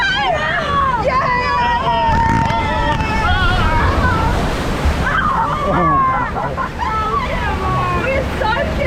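Water splashes and sloshes around a raft on the Grizzly River Run ride at Disneyland, with passengers shrieking and shouting over the steady wash.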